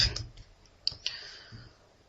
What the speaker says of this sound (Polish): Na klawiaturze przytrzymuję przycisk Ctrl i naciskam literę F.